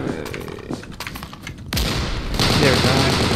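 M1919A6 machine gun fired from the hip in Unit 1968, a few scattered shots before a loud, sustained automatic burst that grows denser toward the end, with a voice talking early on.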